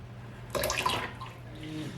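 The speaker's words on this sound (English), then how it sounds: "now I'm ready to very cautiously pour the lye water in" Lye water is poured carefully into soap oils for cold process soap, giving a brief, quiet splashing trickle of liquid that fades into a soft low hum.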